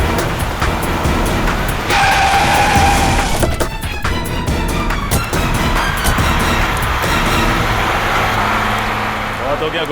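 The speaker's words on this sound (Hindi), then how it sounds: "ये नेहा तो गाड़ी भगाने लगी" A car races off in a rush of loud engine noise, with a tire skid squealing briefly early on and a voice speaking over the commotion.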